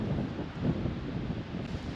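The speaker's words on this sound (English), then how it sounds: "As you can perhaps hear on the microphone, it is quite windy up here" Gusty wind buffets the microphone on an exposed hilltop during a bike ride, a steady low rumbling roar that swells and eases over two seconds with no voices.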